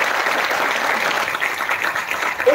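Loud, sustained applause from an audience at a felicitation event, many hands clapping in a thick, even wash with no pause.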